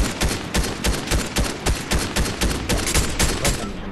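AK rifle fire in a PS5 video game: loud, dense, rapid bursts of shots crackling almost nonstop for several seconds, close and with no talk.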